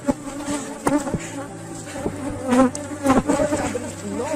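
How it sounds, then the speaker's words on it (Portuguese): An aggressive honeybee swarm buzzes loudly around a hive being split into new colonies, a dense continuous drone with individual bees whining past close by. "Novamente, o enxame está bastante agressivo, é normal."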